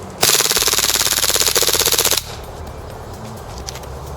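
A Maruzen VZ61 Skorpion gas blowback airsoft gun fires one rapid full-auto burst of about two seconds, loud, close and evenly clattering, before it stops abruptly into quiet.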